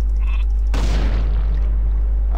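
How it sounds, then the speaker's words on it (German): A sudden loud burst from a sheep exploding after repeated clicks in the video game Warcraft 3 is followed by a decaying rumble, with no talking. "Da klickt man 10-mal drauf und dann explodieren sie."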